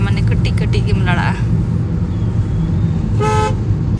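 Busy evening road traffic on a main road in Bhubaneswar, Odisha, with a steady engine rumble and a few car horns honking, including a clear long toot near the end.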